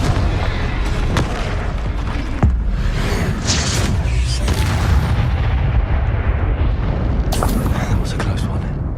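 A Confringo fire-blast spell in Hogwarts Legacy bursts with booming impacts amid ongoing combat noise, loud and close, with a sharp crack early and another bright blast near the end, while a voice is heard.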